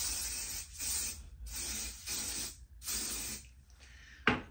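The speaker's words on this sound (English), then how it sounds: "I'm just using the spray" Several bursts of aerosol hair spray hiss in short pulses, close and steady, with brief gaps between them and a small knock at the end.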